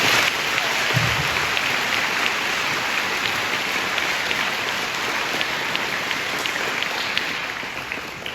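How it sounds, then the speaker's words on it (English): Sustained applause for Marines at a school Veterans Day program, a dense, even wash of clapping from a crowd that holds steady and fades only slightly at the end. "Let's have a round of applause for the Marines."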